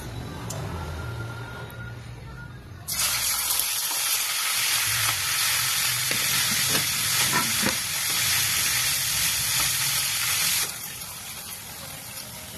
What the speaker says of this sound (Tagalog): I-prito ko rin saglit guys yung aking atay bago natin i-adobo.